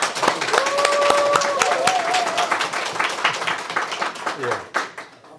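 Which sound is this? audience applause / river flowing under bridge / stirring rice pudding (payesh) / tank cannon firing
audience applause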